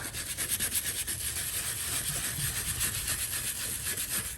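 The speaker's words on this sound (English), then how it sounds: "So I've sprayed it on, and I've got this brush now. I'm just kind of working the area." Brush scrubbing a cleaner-sprayed Big Green Egg ceramic grill dome, a close, steady rhythmic rasping with fast back-and-forth strokes running continuously without pause.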